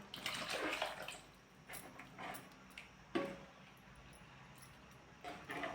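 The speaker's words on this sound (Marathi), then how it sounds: "थोडंसं यात मी पाणी घालते" Water is poured into a thick masala vegetable dish in a home kitchen, with a few soft splashing bursts over faint background quiet.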